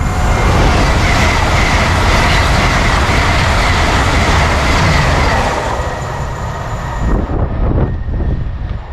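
A loud train rushes past close by on a busy railway at Newark upon Trent, with a dense roar and rattling wheels, fading slightly toward the end.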